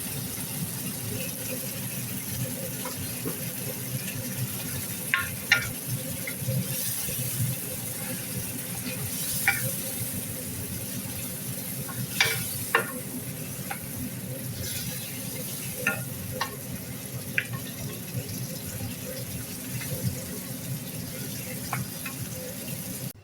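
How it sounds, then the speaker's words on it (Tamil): Chicken for biryani is stirred and fried in a pot, giving a constant close sizzle with scattered scraping and clinking of a spoon against the metal pot at irregular moments, steady and moderately loud throughout. "சுத்தம் செய்து வைத்திருக்கும் கோழியை அதில் போட்டு நன்றாக புரட்டி எடுக்கவும்"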